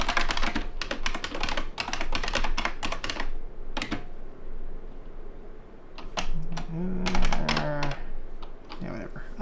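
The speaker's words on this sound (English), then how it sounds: "Oops, typing in the wrong window." Fast clattering keystrokes on a computer keyboard, in rapid bursts with a brief pause in between, close by, with someone talking over part of it.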